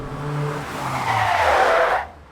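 A car braking hard from 60 mph in a stopping-distance test after a drum-to-disc brake conversion, tires squealing loudly in one sustained skid that rises then cuts off abruptly as the car stops.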